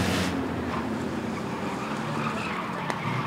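Race cars roar around the Rockford Speedway oval in a Sixer Mixer B-Main, colliding on the backstretch, with a dense, steady engine din and tire skidding that carries loudly throughout and never lets up.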